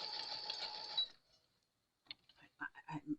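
Sewing machine stitching a patch onto fabric, a steady mechanical whir for about a second, then stopping; scattered soft handling clicks follow.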